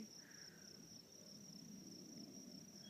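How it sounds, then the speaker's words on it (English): Steady, continuous cricket chirping fills a very quiet outdoor setting, a constant high trill holding for the whole stretch with a faint low background hum and no voices. "I'm in a very quiet place where it's all crickets and birdsong"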